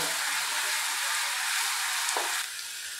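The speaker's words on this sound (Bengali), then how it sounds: "পেঁয়াজটা বেশ অনেকক্ষণ ধরেই ভাজতে হবে।" Onions for paneer masala frying in a pan: a loud, even sizzle with no talk, holding steady throughout and dipping slightly just before the end.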